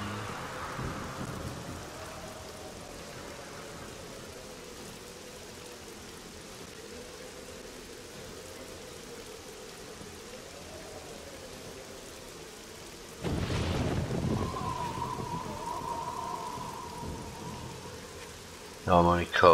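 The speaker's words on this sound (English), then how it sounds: "But it's raining." Steady video game rain hisses throughout in 7 Days to Die, with a sudden loud burst of thunder near the end and a faint voice speaking now and then.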